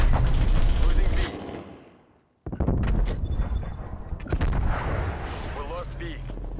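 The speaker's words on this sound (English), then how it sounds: "Artillery targeting detected. Artillery inbound." An artillery strike in Call of Duty Cold War: a dense, rumbling barrage of gunfire and blasts breaks off into near-silence, then a sharp explosion restarts a busy volley of booms and shots, with voices mixed in.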